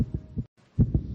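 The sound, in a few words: racing heartbeat of a young child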